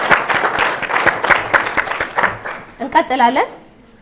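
A studio audience at a children's televised school quiz show in Wondo Genet, Ethiopia, breaks into steady, dense applause for a contestant; it fades near the end and a short voiced or tonal sound follows.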